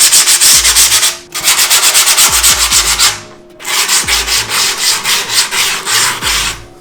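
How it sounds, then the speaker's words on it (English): Leftover grip tape is rubbed back and forth against the edges of skateboard grip tape, giving loud, close rhythmic rasping strokes in two bursts separated by a brief pause. "Areas like this where the grip tape meets and it's thin, those are really important to sand down"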